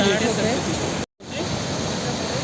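The fast-flowing Saraswati river rushes at its source near Mana village in a steady, loud, close roar of water, broken only by a brief dropout.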